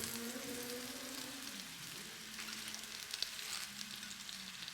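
Fresh whole spinach leaves hit a hot pan and fry with a steady, close, broadband sizzle and crackle that holds for several seconds, with occasional louder pops and no voices.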